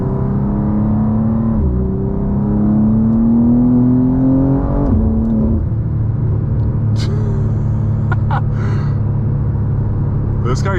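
A BMW M2 (G87) engine rumbles and revs, its pitch climbing steadily then dropping as it downshifts quickly, with road noise and a few sharp clicks later.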